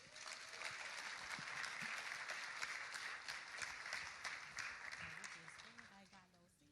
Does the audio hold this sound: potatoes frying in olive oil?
no